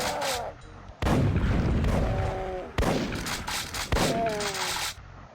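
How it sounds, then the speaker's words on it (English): Heavy double barrel shotgun blasts from the finisher move in the video game Satanic Gameshow: four loud booming shots spaced about a second apart, each with a rumbling tail, and a voice speaking between them. "The finisher for the double barrel shotgun."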